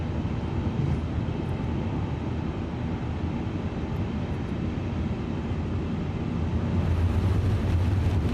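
An iniBuilds A350 airliner climbs after takeoff from Singapore in a flight simulator, a steady loud engine roar with broad rumble, unbroken and without talk.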